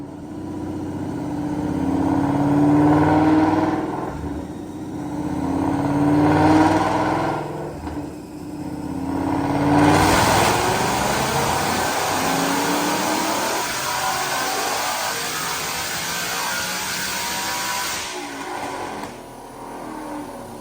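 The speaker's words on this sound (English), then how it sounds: "Check out this dyno pull." A 2016 Ford Mustang with a Roush TVS2300 supercharger, long-tube headers and exhaust, running E85, revs on a dyno: several rising engine pulls and then a long sustained full-throttle run, loud and close, with no talking.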